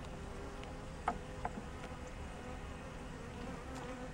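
Honeybees from a package being installed into a hive, a faint steady buzzing hum with a couple of soft clicks.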